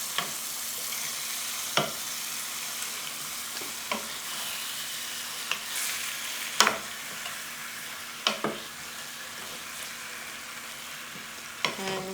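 Chicken afritada ingredients with garlic frying in a pan under a steady, moderate sizzle, broken by sharp scrapes of a stirring utensil every second or two, with no talking.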